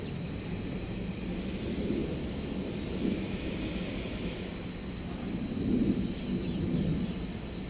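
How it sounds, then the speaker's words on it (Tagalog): Distant thunder rolls in a low, continuous rumble, swelling a little louder near the end, with no one speaking. "Kumukulog na"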